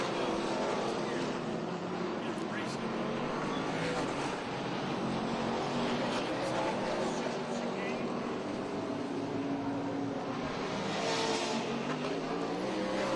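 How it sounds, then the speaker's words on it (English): Trans Am race cars at Portland International Raceway accelerate up through the gears onto the front straight, a distant roaring, revving engine sound rising and falling under continuous commentary. "as they get back up through the gears and rip onto the front straightaway here"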